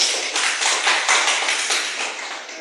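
Students in a classroom give a short round of applause for a classmate, a dense, fairly close patter of many hands clapping that rises quickly and fades slightly over a couple of seconds.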